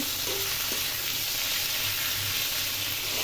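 Greens fry in a pan with a steady, close sizzle and hiss that runs unbroken, with faint stirring underneath.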